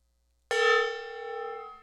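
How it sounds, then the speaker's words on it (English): A gong rings out once after a short silence, a bright metallic strike whose tones hang and shimmer slowly without fading much. "I'm going to hit the gong 2 more times."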